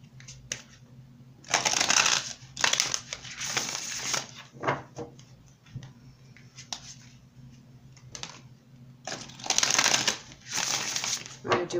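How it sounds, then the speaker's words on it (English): Tarot cards are shuffled by hand in repeated riffling bursts with pauses between them, close and moderately loud over a quiet room hum. "I'm going to do one more shuffle and then we'll get these cards out."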